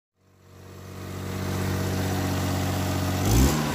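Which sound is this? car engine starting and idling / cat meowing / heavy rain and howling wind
car engine starting and idling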